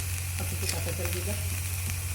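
Raw oil sizzling in a pan while a paste for a prawn coconut curry is prepared: a steady close crackle under a low kitchen hum, with no voices.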